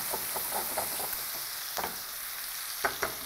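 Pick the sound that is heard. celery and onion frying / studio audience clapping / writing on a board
celery and onion frying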